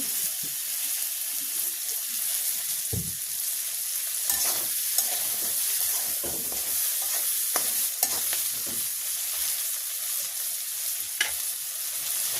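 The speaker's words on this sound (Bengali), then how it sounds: "তো আমার পেঁয়াজ রসুন মরিচটা সুন্দর করে ভাজি হয়েছে।" Onion, garlic and chilli fry in mustard oil with a steady, bright sizzle, while a spatula scrapes and knocks against the pan at irregular moments throughout; no voices are heard.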